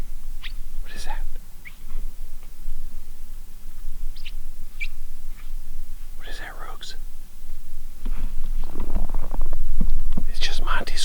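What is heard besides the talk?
dog Monty squeaking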